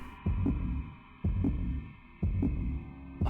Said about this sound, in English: The heartbeat going on.